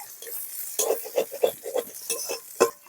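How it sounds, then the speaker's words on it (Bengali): Ginger and chopped green chilli frying in a pan for paneer Patiala, with a spatula stirring in a series of scraping, clinking strokes over a steady soft sizzle, close and moderately loud. "আদা ও কাঁচা লঙ্কাটা বেশ ভাজা ভাজা হয়ে গেছে"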